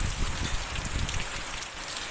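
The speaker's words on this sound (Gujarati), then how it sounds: "ફૂલ વરસાદ છે મિત્રો" Heavy monsoon rain pours down steadily in a continuous dense hiss with low rumbling spatter, close and constant throughout, with no talking.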